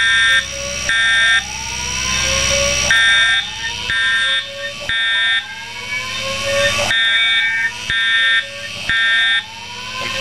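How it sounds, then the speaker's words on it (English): An older fire alarm system in the video game Roblox sounds loudly and repeatedly, with harsh buzzing horn blasts and rising electronic sweeps cycling in a steady pattern through about ten seconds. "this will probably be the only video I have of the older Roblox fire alarm systems"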